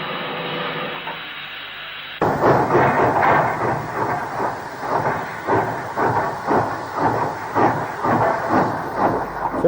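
A steam locomotive shunting wagons at Heaton Mersey near Stockport in 1962, on an old railway film soundtrack. After a quieter start, loud rhythmic chuffing beats and steam hiss repeat steadily, close and sustained.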